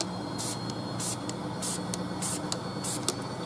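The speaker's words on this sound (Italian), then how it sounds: "a spruzzo andiamo a lavorare sulla prima gomma" Tire protectant is sprayed onto a car tire in a series of about six short, hissing spray bursts at a steady rhythm over a faint background hum.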